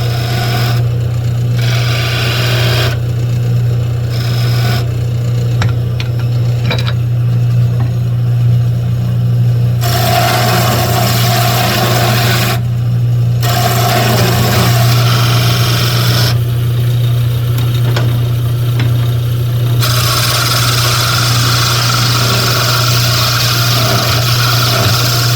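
A wood lathe turns a chair spindle during a chair repair, its motor holding a steady hum while a rougher cutting noise swells and fades over it, close and continuous.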